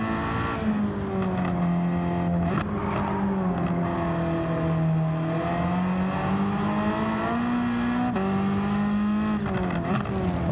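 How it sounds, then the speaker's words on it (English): A backyard-built Ford Focus race car on a track, its engine note loud and sustained as it revs up and down through the gears, with rising and falling pitch over about ten seconds and no voices. "But this car does sound really angry."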